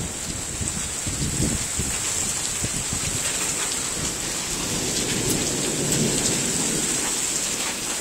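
Steady rain pours onto a porch roof with rolling thunder, a dense continuous wash of drops and low rumbles throughout, close and loud with no talking.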